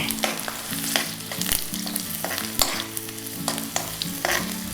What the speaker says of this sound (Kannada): ಸ್ವಲ್ಪ ಜೀರಿಗೆ ಹಾಕ್ಕೊಳ್ತಾ ಇದ್ದೀನಿ